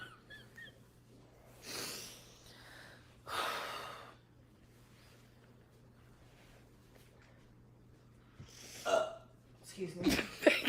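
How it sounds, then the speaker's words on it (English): A man burps during a livestream, a short throaty burst near the end that comes among breathy gasps and snorts over a low steady hum, with no clear words spoken. "He just burped."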